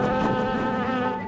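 Dense, loud buzzing of a swarm of Africanized killer bees, a continuous droning whine up close, steady for the whole short stretch.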